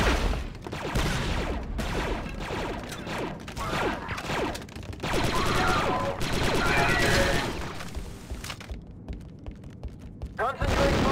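Rapid blaster fire from Star Wars Republic Commando as a squad battles a spider droid, loud and continuous bursts with thuds and mechanical clatter, voices speaking over the combat.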